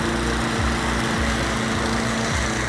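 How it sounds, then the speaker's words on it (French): Husqvarna LC348V lawn mower fitted with a Honda engine, two years old, running steadily at speed: a loud, continuous close-up engine drone with a buzzing whine and faint mowing rumble, no voices. "c'est une tondeuse qui n'a que 2 ans"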